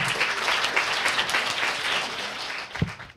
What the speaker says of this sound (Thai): ขอเสียงปรบมือต้อนรับท่านศาสตราจารย์วิทิตมันตาพรครับ